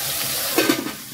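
Ground spice paste hitting hot tempering oil with asafoetida over a low flame for a dry drumstick-pod stir-fry, giving a brief close sizzle with a few soft spattering bursts.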